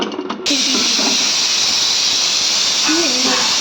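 A loud, continuous steam hiss erupts suddenly and holds steady, like a pressure cooker venting, with a faint voice underneath.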